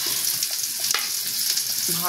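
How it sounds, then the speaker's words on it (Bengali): Bitter gourd sizzling steadily as it fries in hot oil, a constant close crackle for a couple of seconds with a brief stirring scrape near the middle. "করলা ভাজা হচ্ছে"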